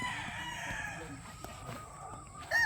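A young rooster (stag) being handled and trained crows once at middling distance, its call drawn out against a steady farmyard hum, with no one talking.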